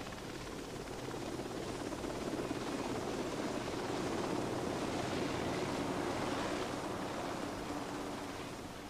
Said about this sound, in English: The helicopter then climbs to several thousand feet above the task force.